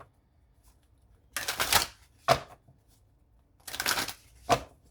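Two bursts of tarot cards being shuffled, each a riffle of crisp fluttering paper followed by a sharp tap or bridge, close and clear in an otherwise quiet room.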